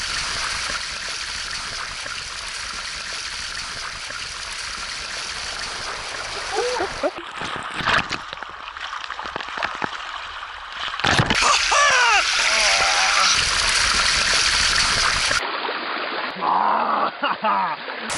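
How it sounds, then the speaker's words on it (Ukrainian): Cold mountain water rushes down a channel along the Lycian Way in Turkey, a steady close splashing stream that fills the scene and briefly drops away and returns, while people talk over it. "Це канал, протікає з гір, бобслей водичка холодненька, така гірська."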